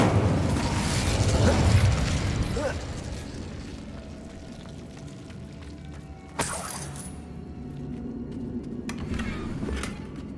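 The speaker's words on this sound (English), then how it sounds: "Incendio!" The Incendio fire spell from Hogwarts Legacy bursts out as a loud whooshing blast that fades into a low crackling rumble, followed by a sharp pop and softer magical shimmer, with no talking.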